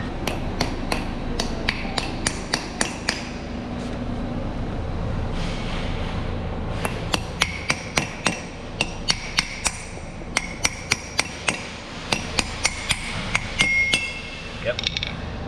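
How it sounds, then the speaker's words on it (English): Bolts on a differential carrier are struck with a hammer, sharp metallic clinks landing in quick bursts of taps with pauses between, close and ringing, with brief speech mixed in. "I'm going to hammer the bolts to release it from the carrier."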